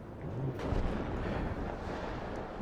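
Artillery fire in the WARNO strategy game, a continuous low rumbling barrage with muffled booms blending together, moderately loud and distant-sounding, with no talk over it.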